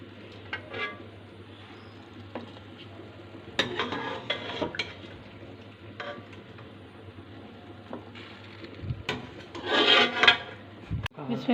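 Cooked chicken being picked apart in a metal pot or dish to remove the bones, giving scattered scraping, rubbing and clinking sounds, with a louder burst of rasping and clattering near the end.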